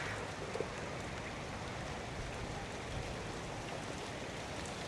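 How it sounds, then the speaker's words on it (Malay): Steady rain falls outdoors during an off-road traction demonstration of a four-wheel-steer vehicle, a dense, even hiss that holds at a constant level throughout with no speech. "Nampaknya hujan turun."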